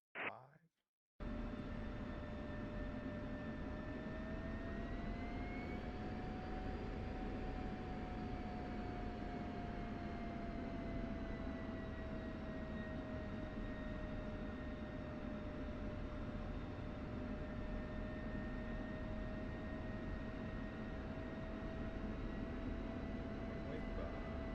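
An airplane taxiing toward the runway in a flight simulator game gives a steady, droning engine hum with a sustained whine that bends slightly in pitch, continuous and even after a brief opening sound.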